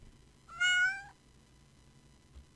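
A single clear cat meow, fairly close and loud, lasting about half a second against quiet room noise, followed by a faint soft knock.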